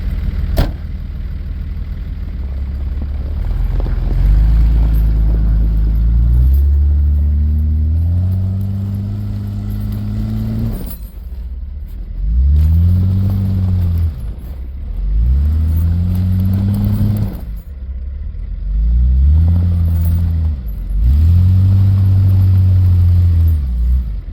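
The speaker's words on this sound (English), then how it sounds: "Okay, so two-wheel drive with chains." A Nissan Patrol 4x4 in two-wheel drive with tire chains revs and strains in repeated surges, its engine rising and falling in pitch through several close, loud pulls over a steady rumble.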